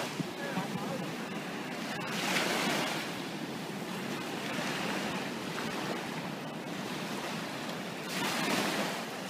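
Ocean surf rolls onto a beach where crabs crawl about. A steady roar of breaking waves swells and fades, with gusty wind buffeting the microphone.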